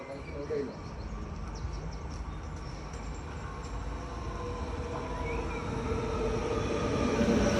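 A train pulls into a station in Amsterdam, a low steady rumble that swells and grows louder as it nears, with faint high squeals and station ambience around it.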